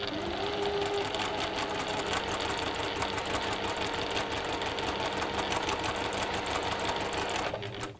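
A sewing machine stitches fabric strips in a steady fast whirring hum with a rapid needle rhythm, close and continuous until it stops at the end, no talking.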